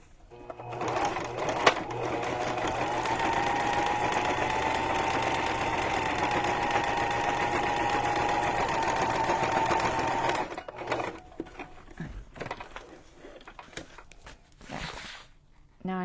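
A sewing machine stitches steadily through a junk journal cover, a fast, even, close mechanical whir lasting about ten seconds before it stops and is followed by handling clatter.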